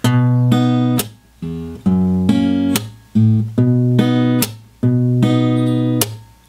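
Fingerstyle guitar plays lines three and four of Swing Low, Sweet Chariot: clear, close plucked chords and bass notes in an even rhythm, punctuated by regular sharp percussive slaps on the strings.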